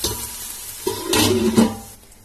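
A pot of Karaikudi Chettinad mutton biryani masala being stirred, a soft scraping swirl over a steady sizzle, rising briefly mid-stir and then settling back.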